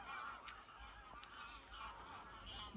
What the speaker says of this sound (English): Look at the birds. They're flying away.